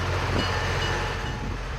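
Old Alco diesel locomotive pulling onto a siding track, a steady loud rumble of engine and rolling rail cars, close by with no voices.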